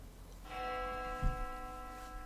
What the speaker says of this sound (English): The bell is ringing.